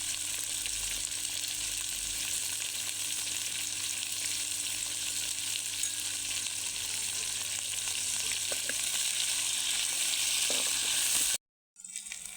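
Onions, salted to soften them faster, sauté in a pan for a raw prawn and leafy greens curry, with a steady close sizzle and hiss that runs unbroken before a brief cut near the end.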